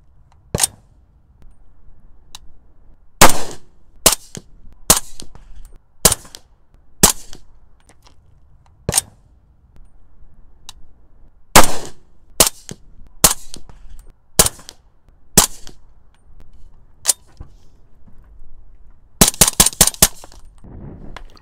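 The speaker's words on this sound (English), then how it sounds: "a point of reference between a bolt closing at 117 decibels, a trigger reset, and the various suppressors we tested" Sharp, loud reports from a SilencerCo Omega suppressed rifle, 5.56 with a 10-inch barrel, mixed with bolt-closing and trigger-reset clicks: isolated cracks spaced a second or two apart, ending in a quick rapid string of shots.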